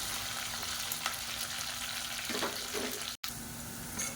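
Steady sizzling of sliced onions frying in hot oil with curry leaves, a continuous crackle with a brief stir partway through and a short dropout near the end.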